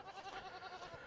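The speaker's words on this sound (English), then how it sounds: "Look at the baby goats" Baby goats on a farm let out a soft, wavering bleat. The short cry sounds faint and somewhat distant.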